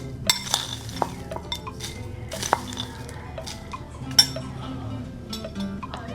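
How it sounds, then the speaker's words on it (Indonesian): A stone mortar and pestle grinds pecel peanut sauce with garlic and peanuts, giving close scraping and grinding with scattered hard knocks and clinks at an uneven pace, and no one talking. "Mari kita ulek pecel kita untuk customer pertama kita"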